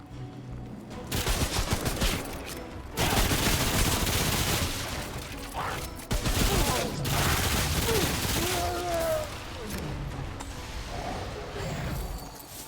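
Sustained bursts of automatic gunfire and rapid shots in Remnant: From the Ashes, loud and dense, with brief breaks between volleys and a voice occasionally under the shooting.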